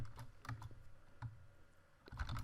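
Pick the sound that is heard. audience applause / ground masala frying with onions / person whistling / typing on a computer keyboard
typing on a computer keyboard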